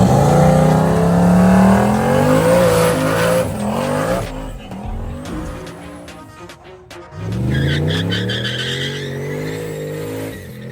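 Street race cars launch side by side in a shootout on the streets of Pontiac, Michigan: loud rising engine revs, tire squeal and roaring acceleration that fades, then a second car winds up again nearby.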